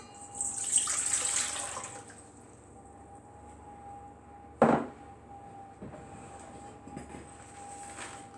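Two cups of hot water are poured while making a taco seasoning mix. A soft splashing hiss rises early and fades out, followed by one sharp knock and quiet small sounds over a steady low hum.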